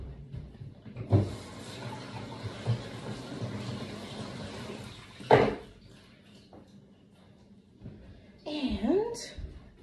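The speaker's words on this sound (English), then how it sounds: "I'm going to, of course, wash all my vegetables" Vegetables being washed under running tap water, a steady gushing stream with a few louder splashes and knocks, while someone talks at times.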